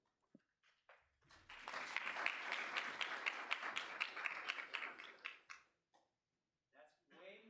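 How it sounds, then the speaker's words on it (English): Applause erupts in a meeting room at a student senate session, a burst of many hands clapping for about four seconds that swells, then fades to a few scattered claps and quiet shuffling. "That's way more applause than I normally get when I give presentations"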